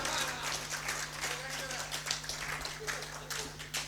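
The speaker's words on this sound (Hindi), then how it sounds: "ताली बजनी चाहिए।" Audience applause at a Hindi kavi sammelan poetry gathering in Kurkawali, a dense wash of many hands clapping steadily throughout, with a low steady hum beneath and no clear speech.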